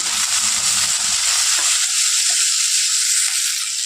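Tomato, onion and green chilli for an egg roast stirred in a frying pan, a loud close steady sizzle with a few soft scrapes, no voices.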